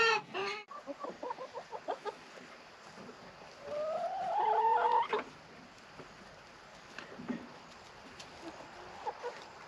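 Chickens cluck and squawk nearby in short bursts, with one longer rising call in the middle and quieter clucks scattered after.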